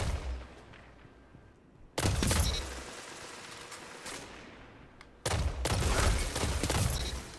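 Gunfire rips out in Destiny 2 PvP combat, two sharp loud bursts of rapid shots with a lingering echoing tail after each.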